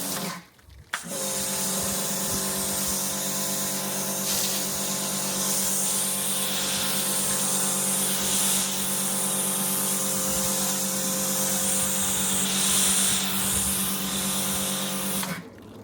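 Kärcher pressure washer rinsing snow foam off a car: a loud, steady motor whine with hissing water spray starts after a second and runs unbroken for about fifteen seconds before cutting off.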